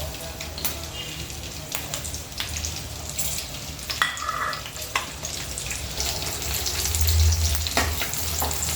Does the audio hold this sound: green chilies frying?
yes